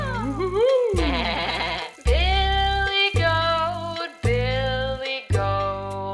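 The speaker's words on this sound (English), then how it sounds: "Billy Goat wants to go for a ride." A billy goat bleats in a series of loud, wavering cries, about six in a row, separated by short pauses within a children's song.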